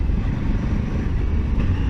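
A steady low engine rumble from a Honda Africa Twin CRF 1100 L1 motorcycle, fairly close, droning continuously without pauses or talk.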